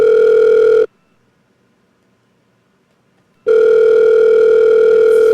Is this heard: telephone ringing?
yes